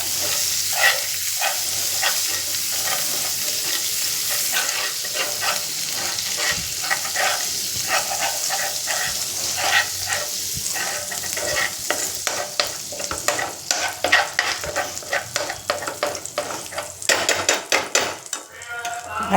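Butter melting and frying in a pan while cooking an eggless butter cake, a steady soft sizzle with frequent clinks and scrapes of a spoon stirring against the metal, growing busier toward the end.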